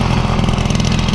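A Honda Spree scooter with a big bore kit and homemade carburetor runs just after a kick start, its small engine buzzing steadily and loudly up close with a rapid, even putter and no talk.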